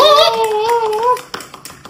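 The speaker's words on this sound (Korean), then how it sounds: "박수 한번 주자 얘들아" Classroom students giving a short burst of scattered claps right after a voice speaks, the claps sparse and fading quickly.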